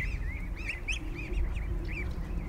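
Canada goose goslings honk repeatedly in short, squeaky bursts at close range, a steady chorus of calls over low background rumble, with no talking.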